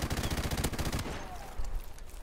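Rapid gunfire from Call of Duty: Modern Warfare Remastered in a gun game match, a dense loud burst of shots that stops abruptly, followed by quieter in-game ambience with a voice faintly in the background.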